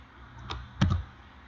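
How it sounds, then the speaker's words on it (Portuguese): A couple of crisp clicks from a computer keyboard key being pressed, close and distinct, with a louder double tap near the end over quiet room tone. "digitando a tecla R."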